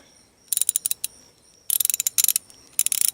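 A ratchet wrench clicks in rapid bursts of short, close clicks with pauses between as it loosens a half-inch bolt on a Harley-Davidson fuel filter during a fuel pump replacement.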